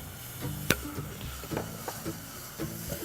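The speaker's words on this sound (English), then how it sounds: "That's the sound you want to hear when the onion hits the pan" Onions dropped into a hot pan with garlic, ginger and curry leaves for chana dal with ridge gourd, a soft sizzle with a sharp clatter and a few stirring knocks, fairly quiet.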